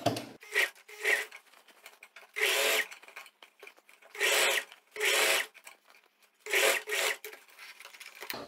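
A sewing machine stitches a seam on a tailored-style vest in short whirring bursts of about a second each, separated by brief pauses, close and clear.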